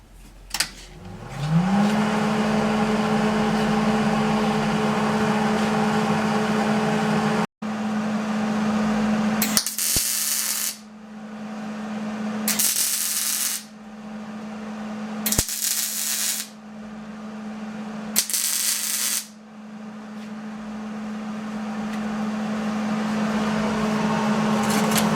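A battery box for a 1957 Chevy is welded on a bench. Four short, crackling, hissing weld bursts cut in over a steady, close machine hum.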